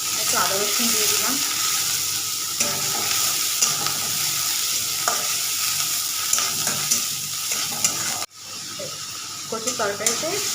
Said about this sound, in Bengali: কচুর তরকারিতে একটু আদা রসুন বাটা দিয়েছি, একটুখানি ধনে গুঁড়ো আর লঙ্কার গুঁড়ো কষিয়ে নিয়ে